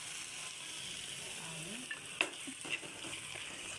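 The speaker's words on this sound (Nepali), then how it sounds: "हामी अब हल्का थोरै पानी हाल्छौँ माथिबाट।" Curry boiling and sizzling in a pan as a little water is poured in from above, a steady bubbling hiss with a few brief clinks and splashes, no talk.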